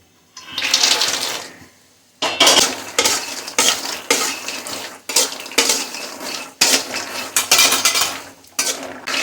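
Makhana (fox nuts) roasting in ghee in a pan, with bursts of rattling, scraping and stirring against the metal in uneven clusters separated by brief pauses, close and fairly loud.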